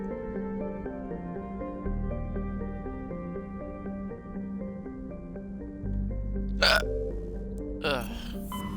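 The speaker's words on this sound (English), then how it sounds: "Hiccups." Hiccups from a game character in Mass Effect: Legendary Edition, two short sharp bursts near the end over steady layered game music and ambience.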